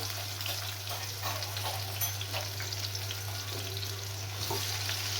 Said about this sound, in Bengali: আগে থেকে কেটে রাখা পেঁয়াজ কুচি দিয়ে দিলাম ভাজার জন্য।